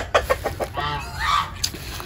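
Chicks or young chickens kept in a separate wire-topped cage, clucking in short repeated calls with a longer warbling chirp, close and moderately loud over a low background hum.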